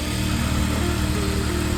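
A sewing machine stitches a plain blouse with a rapid, even mechanical chatter, close and continuous with no pauses.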